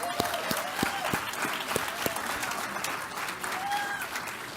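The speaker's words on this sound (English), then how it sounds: "Let's give him a round of applause." Audience applause welcoming a guest lecturer at a university distinguished lecture series, steady and moderately loud with scattered sharp claps and a brief voice or two heard under it.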